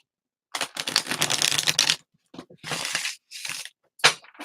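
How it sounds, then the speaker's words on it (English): Tarot cards being shuffled up close in several bursts: a long riffle followed by shorter ruffling flurries, separated by silence. "I'm shuffling the cards now. You probably hear that I'm shuffling the cards."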